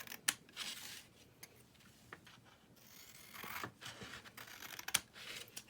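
Scissors snipping the paper ends of a foldable, several sharp close cuts scattered irregularly with soft rustling of paper between them, no talk.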